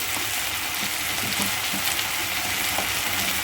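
Ground turmeric, chili and cumin frying with ivy gourd in a pan, giving a steady close sizzle with occasional light stirring clicks and no talk.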